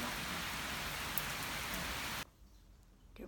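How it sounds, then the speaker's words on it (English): Tiny hailstones patter densely and steadily onto surfaces with a loud hissing rush, then cut off abruptly, leaving a much quieter background. "Having hail, but it's tiny, tiny, tiny little ones."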